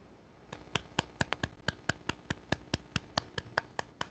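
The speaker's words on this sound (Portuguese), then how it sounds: "Deu para escutar as palmas?" A single pair of hands clapping about sixteen times in a steady, slightly uneven rhythm, sharp and close in a quiet room with no voices.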